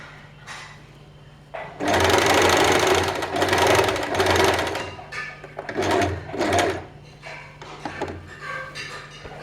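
A sewing machine stitches a nightdress in bursts, running hard for a few seconds, then stopping and starting in shorter runs, close and loud with faint handling noises between.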